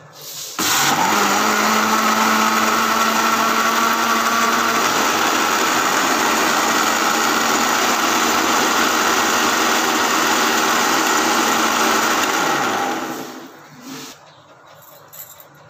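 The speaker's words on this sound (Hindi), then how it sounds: "अब मैं इसको ब्लेंड कर लेती हूँ, फिर मैं आपको दिखाती हूँ।" A kitchen blender grinds cucumbers with sugar and water for fresh juice, a loud steady motor whir that starts abruptly and runs about twelve seconds before winding down, no talking.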